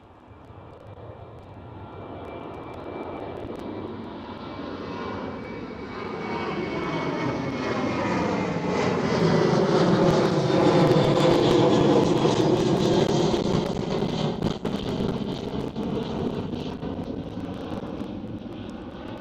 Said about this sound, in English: we have a KLM 737 rotating